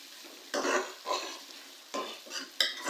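Masala with tomatoes and green chilies for chicken masala being fried and stirred in a pan: a soft crackle broken by several brisk scraping stirs, fairly faint and close.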